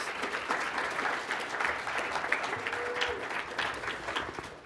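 An audience at a youth engagement talk applauds the event staff, a steady, even patter of many hands clapping at moderate distance, fairly quiet and unbroken.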